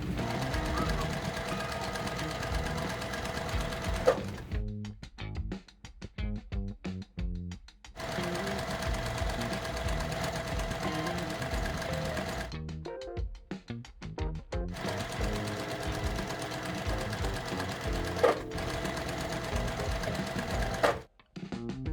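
A sewing machine stitches rows of quilt blocks in steady, continuous runs of rapid mechanical chatter, close and moderately loud, broken by short pauses and stop-start bursts as the fabric is repositioned.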